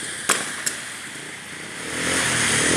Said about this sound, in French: Alors les coups de feu, c'est le mec là, avec sa moto, je crois.